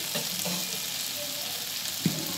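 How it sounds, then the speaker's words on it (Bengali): Kochur loti (taro stolons) fries in a pan while being gently stirred, giving a steady close sizzle with soft scraping strokes and one sharper clink near the end. "যেহেতু ভাজা ভাজা বলেছি তাই হালকা হাতে নাড়াচাড়া করতে হবে"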